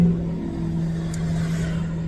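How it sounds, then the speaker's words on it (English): Steady road traffic rumbles close by, a car passing with a low engine hum and a constant drone, no voices over it. "I kind of can't help the traffic noises"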